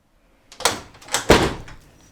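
A theatre door swings open with two creaking, scraping surges, the second louder, close by in an otherwise quiet space.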